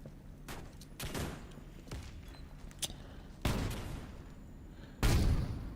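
Gunfire in a competitive shooter game match, scattered sharp shots and short bursts echoing at varying distances, with the loudest blasts near the middle and end, no talking.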